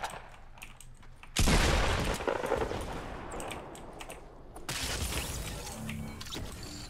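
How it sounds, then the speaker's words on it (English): Rockets firing and exploding in a Fortnite Battle Royale match, with a sudden loud blast followed by sustained rumbling and debris noise, then a second wave of explosion roar. "Rockets coming from 150."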